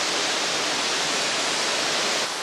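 Waterfall on the Genesee River in Rochester, New York, a steady, dense rushing roar of falling water without pause.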